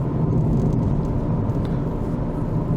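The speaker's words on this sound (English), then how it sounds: "So we'll take this car out on the road and see how it drives." A 2004 Toyota Caldina with the 1.8-litre twin-cam 1ZZ-FE engine cruises along the road, a steady, loud low rumble of engine and tyre noise heard from inside the car, with no voices.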